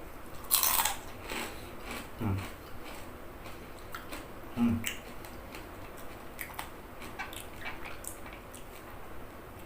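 Someone eats crispy Thai pork crackling (mhu krajok) up close, with a few loud crunchy bites followed by softer chewing and small crackles, in a quiet room with no talking.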